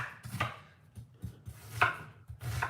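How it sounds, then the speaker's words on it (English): A knife chops onions on a cutting board in a home kitchen, a series of crisp, close, uneven thuds and slicing strokes with short pauses between, with no talking. "Next, I'm gonna cut up my onions."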